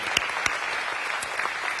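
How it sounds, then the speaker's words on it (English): Audience at a 2018 summit forum applauds its deaf team and interpreters, a steady wash of many hands clapping with a few sharper claps standing out, moderately loud throughout and without speech. "Can you give them a round of applause?"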